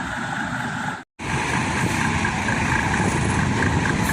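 A Hino bus engine with a modified exhaust rumbles loudly and steadily at close range, broken by one abrupt cut of silence near the start before the drone resumes unchanged.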